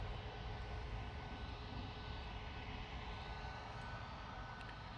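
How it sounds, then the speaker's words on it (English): A Delta Airbus A330-900 passes overhead unseen above overcast skies near Manchester Airport, giving a faint, distant, steady jet drone with a low rumble that carries evenly from start to end. "Delta A330-900 flying over the top. I can hear it."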